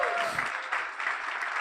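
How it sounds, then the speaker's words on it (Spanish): Congregation applauding during a church service, a steady wash of clapping that holds for the whole short stretch at moderate level with no talk over it. "démosle un aplauso a Dios por eso"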